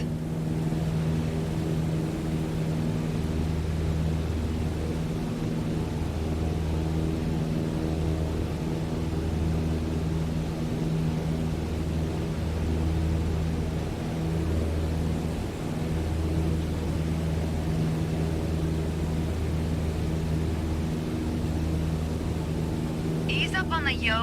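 Steady drone of a light airplane's piston engine at cruise power in Microsoft Flight Simulator 2020 over Sedona, Arizona, a continuous even hum with a faint flutter throughout, with a voice talking over it.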